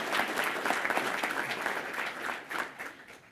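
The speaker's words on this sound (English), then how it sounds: "Let's give them a round of applause." Business forum audience at a regional chamber economic forecast breaks into steady applause, a dense crowd of clapping hands continuing throughout without letting up.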